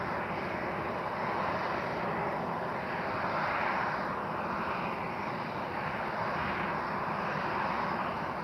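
A jet airliner lands at Lisbon Airport on a sunny afternoon, its broad, steady engine roar filling the air continuously and loudly with a slight swell midway, no voices over it.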